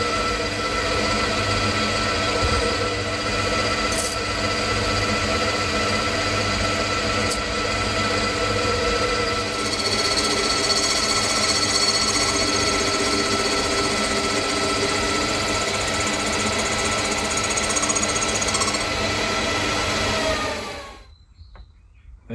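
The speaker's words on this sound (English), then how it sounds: "I have a ball nose end mill here, or ball nose slot drill in fact" A ball nose end mill cuts a flat on a small piston valve for a model traction engine, a steady, close, loud machining whir with tonal chatter that continues evenly before stopping abruptly near the end.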